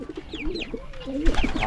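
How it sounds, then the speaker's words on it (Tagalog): Pigeons coo close by in a flock kept by their owners, with low, rolling throaty calls repeating in short phrases and a few thin higher chirps mixed in. "At yung mga kalapati natin"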